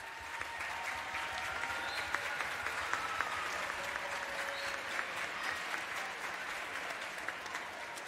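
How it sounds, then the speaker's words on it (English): A concert hall audience at a competition honors concert applauds the jury members seated in the balcony, with sustained, even clapping from a large crowd and no break. "give them a round of applause as well?"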